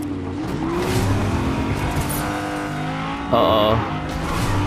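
Centio car driving in Fortnite, a steady game engine drone with tire and skid noise running under light in-game chatter, plus a short brighter electronic chime near the end.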